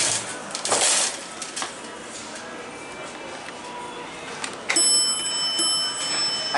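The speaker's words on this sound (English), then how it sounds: "I love that bell" A 2001 ICE hydraulic elevator at Dick's Sporting Goods in the Mall at Robinson gives a single bright bell chime near the end, ringing on steadily over quiet room noise.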